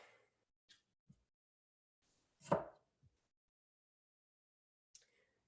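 A knife scoops and cuts the stems out of tomato quarters on a quiet board, making a handful of sparse, soft taps and scrapes. One slightly louder cut stands out in the middle.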